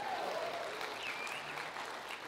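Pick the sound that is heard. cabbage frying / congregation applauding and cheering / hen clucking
congregation applauding and cheering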